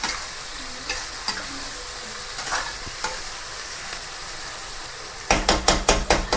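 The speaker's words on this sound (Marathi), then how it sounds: "मिरची पण अशी थोडी छान भाजून घेऊया" Green chillies roast in a pan with a soft sizzle and scattered spatula scrapes, ending in a loud, rapid run of metal stirring clanks close by.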